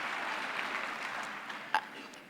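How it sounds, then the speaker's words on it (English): Audience at a university autumn graduation ceremony claps in a soft, diffuse round, fairly distant and steady, with one sharper nearby clap standing out. "Come on now, you need to clap for that."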